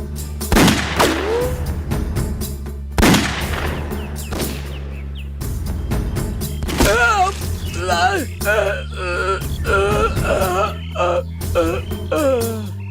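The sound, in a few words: gunfire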